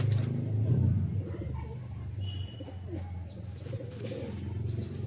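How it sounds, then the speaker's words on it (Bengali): Pigeons cooing softly in a Madrasi high-flying pigeon loft in Kolkata, low murmuring coos under faint background noise and a few chirps. "কিছু ভালো পায়রা আপনাদেরকে এই ভিডিওতে দেখাবো"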